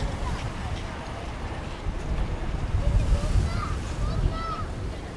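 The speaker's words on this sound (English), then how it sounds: "It's fairly blustery, windy." Blustery wind at Narita Airport in Japan, a constant broadband rush and rumble buffeting the microphone, swelling in gusts partway through, with no clear speech.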